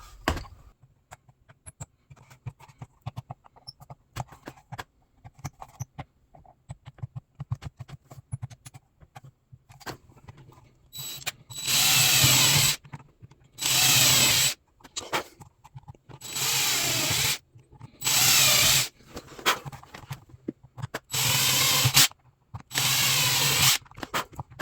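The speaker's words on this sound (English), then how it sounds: "Let's get these holes drilled out." A power drill bores holes in leather for a magazine belt holster, whining in a series of short, loud, evenly repeated bursts after a quiet stretch of light handling.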